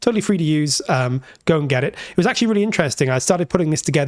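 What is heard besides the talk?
No everyday noise stands out behind the speech.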